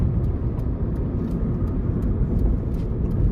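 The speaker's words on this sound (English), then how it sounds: "we're gonna give it a little bit of gas here, getting on the interstate" Inside a 2006 Nissan Sentra 1.8S as the driver accelerates onto the interstate, the engine hums in a loud, steady low drone under road noise, with faint ticks above and no talk.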